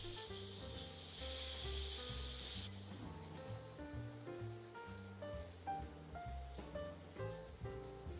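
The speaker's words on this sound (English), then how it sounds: "Add the tofu and fry them until they're just lightly golden." Tofu pieces fry in oil in a pan over medium heat, giving a continuous close sizzle with soft crackling under gentle background music.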